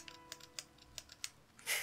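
Computer keyboard typing during a PC game session, a quick run of separate clicky keystrokes at close range with uneven rhythm, ending in a brief louder burst, no talking.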